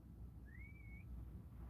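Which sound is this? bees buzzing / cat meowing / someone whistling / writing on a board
someone whistling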